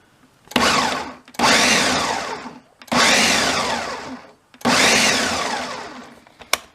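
A blender pulses salsa ingredients with onions and kosher flake salt in four loud, even bursts of whirring, each fading slightly before a brief pause, with no voices.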